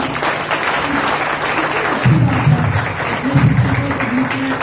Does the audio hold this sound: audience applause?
yes